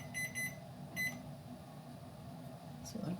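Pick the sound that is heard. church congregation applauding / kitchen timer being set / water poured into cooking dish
kitchen timer being set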